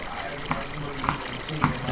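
Running water in a farming video game, a steady watery rush with faint splashy blips every half second or so, fairly quiet beneath a voice talking over it.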